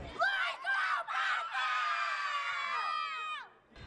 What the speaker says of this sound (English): there were hundreds of Pikeville fans here cheering on their favorite team today